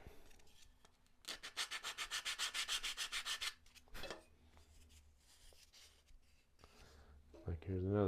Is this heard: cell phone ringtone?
no